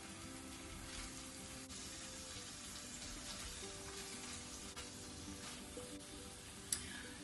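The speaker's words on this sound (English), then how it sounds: "It's my oil is hot, so I'm just going to put all this tofu" Tofu fries in hot oil in a pan for a green bean and peanut sauce dish, giving a faint, continuous sizzling hiss with one brief sharper clatter near the end.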